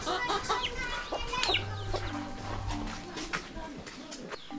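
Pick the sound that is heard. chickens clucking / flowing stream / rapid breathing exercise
chickens clucking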